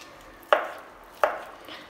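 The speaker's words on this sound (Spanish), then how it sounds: "Esto yo lo voy a picar. En pedazos más pequeñitos" Two sharp, close knife chops strike a cutting board about three-quarters of a second apart as leftover meat is cut into small pieces.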